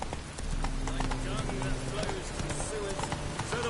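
Hooves clip-clop at a quick gallop from a horse in a PS4 video game, a steady run of close hoofbeats under faint game ambience.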